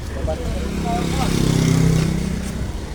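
A motorcycle engine runs steadily close by, a continuous low drone that swells slightly mid-clip, with a faint voice briefly audible over it.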